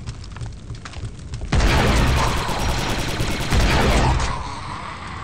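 Loud sustained automatic gunfire from the Star Wars shooter Republic Commando bursts in after a quieter stretch of scattered shots, rattling densely for about two and a half seconds before easing back to lighter background fire.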